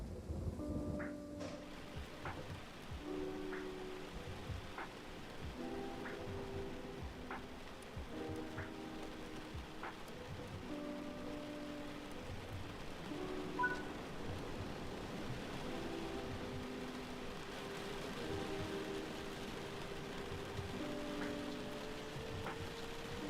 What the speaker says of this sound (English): These raindrops are not great up close.